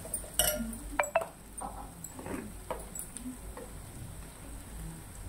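Salt and chili powder being stirred into bitter gourd curry in a pan, with scattered metal spoon clinks and scrapes against the pan at an uneven rhythm, close and fairly quiet with no talk.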